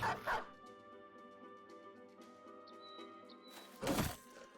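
War dogs bark in the video game Battle Brothers, two bursts of yelping barks at the start and near the end over a quiet tonal music bed.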